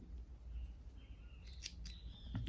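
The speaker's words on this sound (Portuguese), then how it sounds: "Vou cortar o suficiente para costurar essa parte aqui." Scissors snipping knitting yarn at close range, a few quick crisp cuts near the end over a quiet background.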